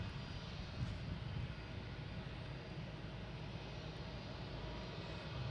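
A Delta airliner on flight 5667 bound for Reagan at Boston Logan International Airport, heard as a steady, fairly faint low engine rumble that holds even through the whole stretch with no voices.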